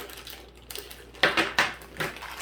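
Scissors cut open a Grinch-printed plastic Christmas goody bag from Dollar Tree, giving a few close, crisp snipping and crinkling strokes after a quiet start.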